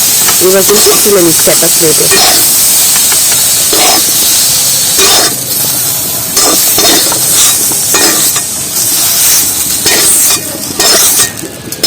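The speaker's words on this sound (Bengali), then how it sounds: "বেগুনটাও আলুর মধ্যে দিয়ে ভালো করে ভেজে নেবো" Eggplant frying with potatoes in hot oil in a pan, a loud continuous sizzle and hiss broken by spatula scrapes and light clinks, with brief speech at the start.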